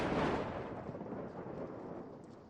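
Loud thunder from a storm rolls in a deep, continuous rumble that starts strong and gradually eases, with no voices over it.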